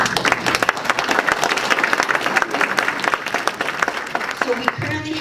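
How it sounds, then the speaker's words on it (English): A town hall audience applauds loudly and steadily, dense clapping that fades near the end. "So, yes, I think that deserves an applause."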